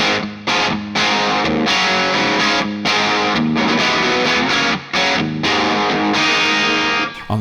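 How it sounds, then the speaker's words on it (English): Electric guitar on an AC30 amp-model preset of a NUX Amp Core, played as loud, driven chords in short rhythmic bursts with brief stops between phrases, alone without talk. "On the second one, you'll see it changes to an AC30 and it sounds like this."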